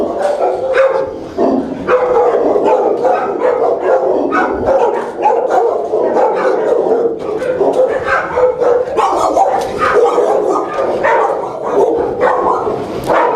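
Dogs at an SPCA animal shelter bark repeatedly and loudly, several voices overlapping in a continuous echoing chorus with occasional yips.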